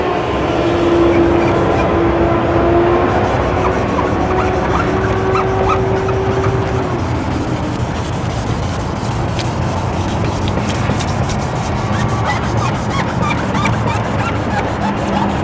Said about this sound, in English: And keep your sandpaper nice and wet.